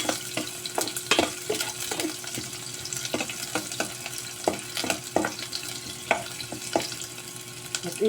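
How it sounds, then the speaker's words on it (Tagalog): Vegetables are stirred in a hot cooking pan, sizzling and frying softly beneath irregular scraping and clattering strokes of a utensil, fairly close, with no talking. "At halo-haloin natin ang ating mga panamya."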